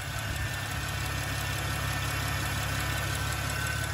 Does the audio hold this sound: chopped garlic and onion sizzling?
no